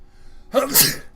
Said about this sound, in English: I sneeze with my nose because my nose itches from pollen